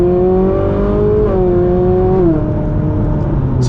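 A sports car, either a Ferrari 458 or the new Acura NSX, is driven on a cold day while still warming up. Its loud, close engine drone steps down in pitch twice as it downshifts.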